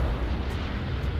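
A bombing run explosion in the World War II shooter Hell Let Loose: a deep, rumbling blast that rolls on as a sustained low roar, loud and steady for the whole moment with no talk.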